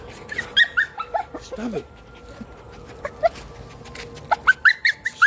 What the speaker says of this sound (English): He's gonna get bit by these dogs.